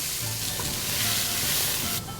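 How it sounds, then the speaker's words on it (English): Onions sizzle and fry in a pan as a sauce base for short ribs, a dense, continuous crackling hiss heard close up with no voices. "We're going to saute some onions."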